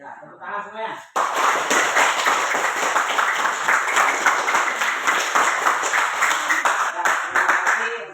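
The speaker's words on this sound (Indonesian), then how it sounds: "Ya, tepuk tangan semuanya." Classroom applause for a group's presentation: a sudden burst of many hands clapping, dense and sustained for several seconds, following a brief exchange of voices.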